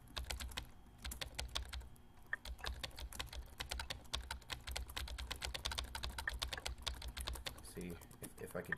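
Rapid, uneven keyboard typing with clicky keystrokes continues throughout, close and steady, over a low background hum.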